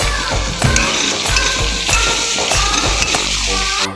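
Spices hiss and sizzle as turmeric powder fries in hot oil with garlic and chili powder, a loud continuous crackle with periodic scraping stirs, no talking.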